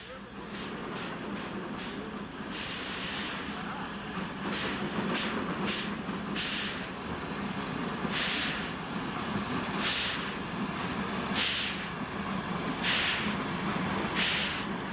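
An oil-fired Baldwin narrow-gauge steam locomotive working in Argentina, a continuous mechanical roar with repeated hissing bursts of steam at irregular intervals, heard alone without talk over it.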